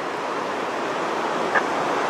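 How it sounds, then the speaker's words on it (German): A waterfall in the Norwegian mountains roars as a steady, broad wash of falling water, continuous and even throughout without pause. "Dort im Hintergrund ein Wasserfall"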